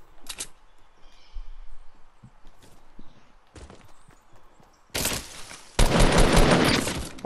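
Rapid bursts of weapon fire from a burst gun in a Fortnite match, a short shot early on, then two loud, dense volleys near the end, the second longer and sustained, with scattered game noises between.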